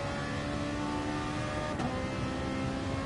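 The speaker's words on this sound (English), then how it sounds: "You can hear that Ferrari engine working away before braking" A Ferrari Group B race car engine in the GT Sport racing game at Brands Hatch, revving loud and steady at high speed down a straight, with a brief shift or blip near the end before braking; no talk.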